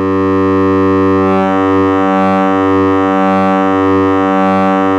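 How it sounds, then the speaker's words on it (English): Concussor SQ8 eurorack CV and gate sequencer with its gate and CV outputs crossfaded at audio rate, giving a loud, steady buzzing drone with a gently pulsing, wobbling tone, with no talking. "So what you're hearing now is the gate output and the CV output being crossfaded."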